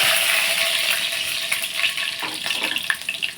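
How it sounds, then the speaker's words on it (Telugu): A spoonful of fenugreek seeds sizzles in hot oil in a pan, a steady close crackling hiss with a few clinks and stirring scrapes building in the last second. "ఇదిగోండి మళ్ళీ ఇంకొక ప్యాన్ పెట్టాను కదా ఇందులో కొన్ని మనం మెంతులు వేసుకున్నాం ఫస్ట్ ఒక స్పూన్ మెంతులు వేసాను"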